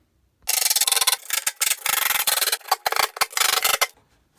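A screw is driven into 3/4 inch MDF aprons on a scrap-built flip-top tool stand, a close, loud buzzing grind in several short bursts with brief pauses between them.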